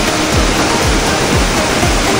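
Steady, dense rush of Aw-Asen Waterfalls in Ilocos Sur, a continuous broadband roar with no pauses and no voices.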